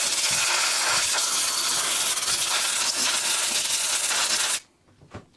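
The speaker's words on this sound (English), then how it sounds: "So another quick little blow off with the old air compressor" A compressed-air gun blows dirt and crud off a cracked ATCO lawnmower deck: a loud, steady hiss of rushing air that runs for about four and a half seconds, then cuts off abruptly into near silence.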